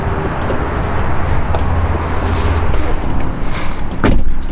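A 2007 Jeep Grand Cherokee Overland 4x4 with its Hemi V8 turning over and settling into a steady low rumble, heard close and continuous with a slightly louder burst near the end.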